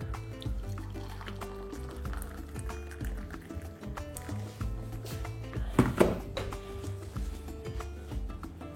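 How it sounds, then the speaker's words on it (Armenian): Boiled water is poured into a cup, a soft trickling stream with small splashes and a brief gurgle near the end, heard up close and faint without talk. "Մի բաժակ էլ եռացրած ջուր կավելացնենք։"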